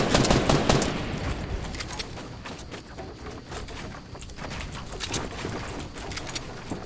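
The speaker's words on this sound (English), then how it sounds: "Oh, we're getting shot from the side, so we build up." Gunfire crackles in the Fortnite battle royale game, loud, rapid automatic bursts rattling almost nonstop, strongest at the start and then steady throughout.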